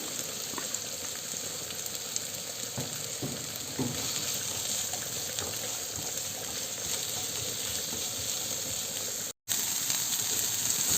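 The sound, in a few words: sliced onions sautéing in prawn-frying oil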